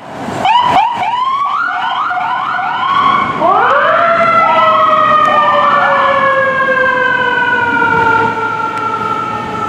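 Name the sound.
ambulance siren passing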